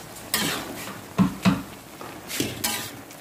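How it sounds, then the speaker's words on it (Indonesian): Food being stirred in a pot over a fire in a boarding-school kitchen, with a few distinct scraping clanks of a utensil against the pan, spaced irregularly and fairly close, with no talking. "Kita aduk lagi, guys."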